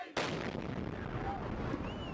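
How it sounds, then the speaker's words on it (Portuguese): An explosion rips through a crowded rally in front of a central train station: a sudden loud blast, then a sustained roaring rumble and crowd noise. "As pessoas saíram correndo em desespero e logo aconteceu a segunda explosão."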